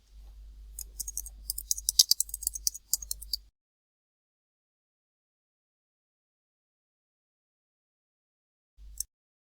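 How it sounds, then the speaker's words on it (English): Typing on a computer keyboard, a quick run of light clicks for about three seconds, then silence and a single brief tap near the end. "So I'm going to start typing in my answers."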